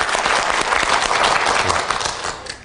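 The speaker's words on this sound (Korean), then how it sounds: "여러분 박수로 부탁드립니다" Studio audience applause on a Korean language quiz show, a full, bright burst of many hands clapping close and loud, holding steady before easing off at the end.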